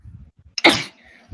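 A single sharp, close sneeze bursts out after a quick intake of breath and trails off. Faint murmurs come before and after it in a quiet indoor setting during a coffee chat.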